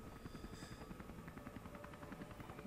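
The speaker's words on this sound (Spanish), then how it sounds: "Ah, es un helicóptero." A helicopter in the video game Prototype, its rotor pulsing in a steady rapid chop at close range, continuous and unchanging through the short stretch with no talk.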